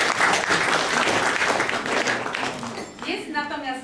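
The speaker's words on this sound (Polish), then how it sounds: "To brawo." An audience bursts into dense, sustained applause, loud and close, which thins and fades toward the end as a voice begins to come through.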